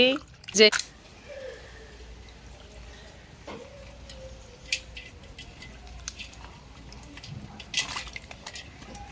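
Crabs being washed in water give close wet squishing, dripping and occasional clattering against a pot or bowl, heard under a person talking.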